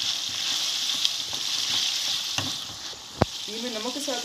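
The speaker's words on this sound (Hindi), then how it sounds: "और ये मैंने थोड़ी सी प्याज के क्यूब्स और टमाटर के क्यूब्स रखनी है, और हरी मिर्चों के साथ फ्राई कर लेती हूँ" Onion cubes, tomato cubes and green chilies frying with ginger for khara masala keema give a steady close sizzle, with a few soft stirring knocks and a sharp clack near the end.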